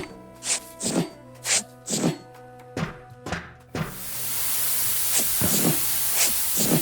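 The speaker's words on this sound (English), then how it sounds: "Hear more steam." Steam hisses from pipes in the game Ship Graveyard Simulator 2, a loud continuous spray that bursts in partway through and follows a run of evenly spaced metallic thunks, with a few more knocks under the hiss.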